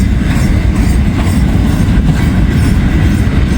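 A long CSX intermodal freight train rolls past close by, a loud, continuous rumble and roar of wheels on rails without pause.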